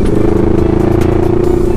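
A motorcycle engine on the ride up to Mt. Gulugod Baboy in Batangas, Philippines is held at a loud, steady rev, a close, continuous droning buzz with slight rattly clatter and no talk over it.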